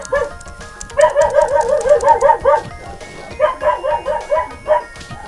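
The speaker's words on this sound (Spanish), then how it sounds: "Se van a escuchar muchos ladridos de perro." Dogs bark in the video game Kunai, a quick run of rhythmic yapping barks in two bursts separated by a short pause, loud and close with faint game sounds underneath.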